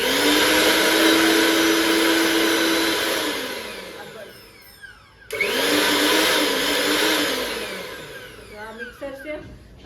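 A newly bought kitchen mixer grinder whirs loudly and steadily, winds down to near silence around the middle, then starts up again at full speed before tapering off, with a voice briefly heard near the end.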